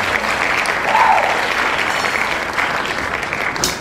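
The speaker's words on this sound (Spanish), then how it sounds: "Eso mismo, vamos, aplaudo." An audience applauding during a sermon, loud and continuous clapping for nearly four seconds with faint crowd noise beneath.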